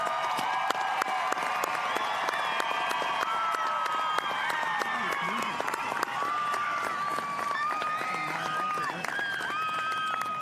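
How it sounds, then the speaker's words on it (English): A large crowd at a high school graduation ceremony applauds continuously, dense clapping with some cheering, sustained and loud throughout. "Let's give them all a big round of applause."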